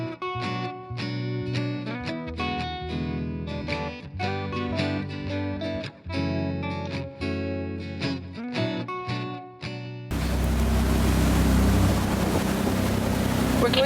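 A cruising boat's motor drones with a steady layered rumble under rushing wind and water noise, and the sound swells into louder broadband wind buffeting toward the end.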